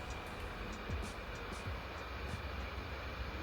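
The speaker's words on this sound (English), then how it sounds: "I actually got the fans to kick into jet engine mode." Surface Pro 7 laptop cooling fans spinning at full speed under heavy 4K video editing load, a loud, steady broadband whoosh with no pauses, close and alone.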